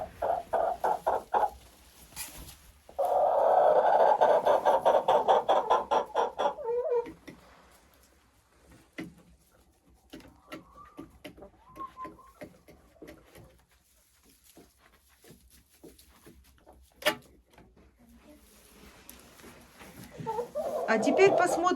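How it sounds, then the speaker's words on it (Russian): Laying hens of an egg breed cluck and cackle in a farmyard flock, loud rapid calls at first, then scattered quieter clucks with pauses before another loud burst at the end. "Куры-несушки."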